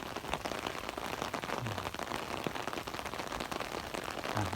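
Heavy rain pours steadily at a dam dredging site, a dense, constant hiss of drops hitting surfaces with no talk, sounding close and unbroken throughout.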